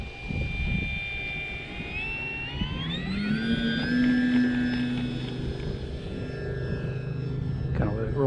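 An Arrows Bigfoot RC model airplane comes in to land in strong, gusty wind, its electric motor whine sliding up and then holding a high pitch, then fading near the end as the plane settles, with a voice talking nearby.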